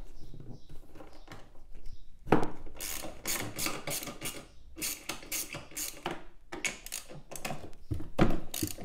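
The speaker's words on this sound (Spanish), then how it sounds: "ahora vamos a quitar estos cuatro tornillos. Sigue siendo con la llave del 10." Ratcheting 10 mm wrench loosening four screws on a Kymco Super Dink 125 scooter, fairly close, with repeated bursts of quick clicking separated by short pauses.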